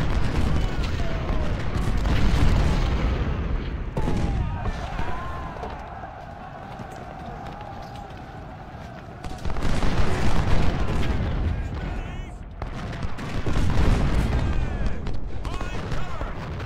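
Cannon fire in the Civil War strategy game Ultimate General Civil War, with heavy booming volleys and rumbling bursts of battle noise that swell, ease off and return across the scene.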